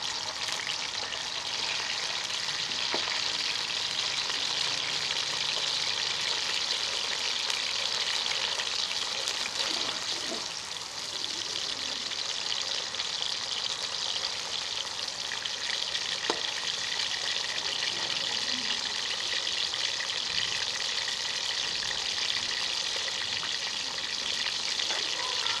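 Finely chopped onion frying in hot oil for a gobhi chicken dish, a loud continuous sizzle with a few faint stirring clicks, no talking.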